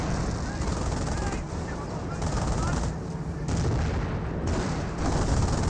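Sustained heavy gunfire pours onto an infantry squad in the World War II strategy game Company of Heroes, dense overlapping shots and bursts with a few dips, loud and continuous throughout.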